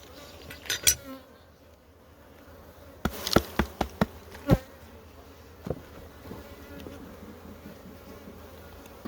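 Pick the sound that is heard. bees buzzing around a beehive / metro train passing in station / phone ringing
bees buzzing around a beehive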